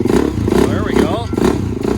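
An Arctic Cat DVX400 ATV engine idles right after a fresh carburetor was fitted, a steady, rough, throbbing idle heard up close, with a voice talking over it.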